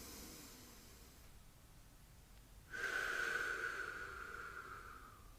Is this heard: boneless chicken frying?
no